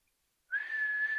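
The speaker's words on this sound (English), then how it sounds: "I was whistling." A person whistles a single clear sustained note that starts abruptly after a moment of near silence and holds steady, close and fairly loud.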